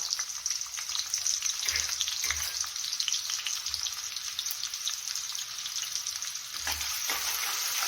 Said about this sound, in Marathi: तेल तापत आलं की त्यामध्ये टाकून घेऊया एक बारीक चिरून कांदा